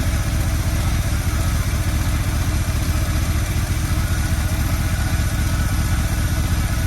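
A 1972 402 big-block Chevy engine idles with a loud, steady, close rumble and fast, even pulsing throughout, with no voices.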